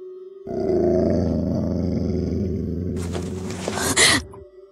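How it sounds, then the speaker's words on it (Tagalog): A dog's deep, rough growl rumbles steadily for several seconds, loud and close, ending in a harsher snarling burst before cutting off. "Parang umaangil na aso."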